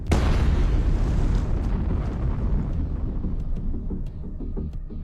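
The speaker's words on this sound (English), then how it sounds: "Ammunition detonates, causing a powerful explosion." Ammunition detonates inside a Gvozdika self-propelled gun after an FPV drone strike in Ukraine, a loud, powerful blast followed by a long rumbling roar with scattered crackles and pops as it fades.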